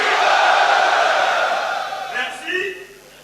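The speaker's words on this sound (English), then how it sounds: "The crowd goes off, and I just have to listen to it." A large esports arena crowd at a live game match between Curse.eu and M5 roars and cheers loudly, a sustained wash of voices that gradually fades, with a few shouted calls near the end.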